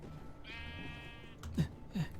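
A sheep in the video game Minecraft bleats once in a long wavering call, followed by two short soft thumps, faint and alone.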